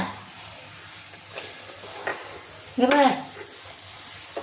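Soft, steady sizzle of onion cooking in a hot pan without oil, with a short voice-like tonal sound briefly rising over it midway.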